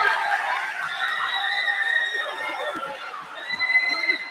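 Visiting Fordham Prep fans chant in a high school varsity basketball gym against Salesian, a sustained crowd roar with sung tones rising and falling at a distance, while nearby voices talk over it.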